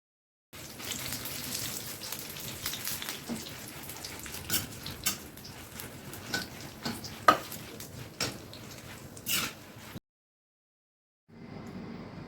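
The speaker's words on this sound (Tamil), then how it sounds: "இப்போது புளி, வரமிளகாய், பூண்டு இதை மூணும் நல்லெண்ணெயில் லைட்டாக வதக்கி எடுத்துக்கலாம்." Tamarind, dried red chillies and garlic sautéing in sesame oil in a pan, a soft steady sizzle with occasional clinks and stirring scrapes, then silence before a short burst of sizzling resumes.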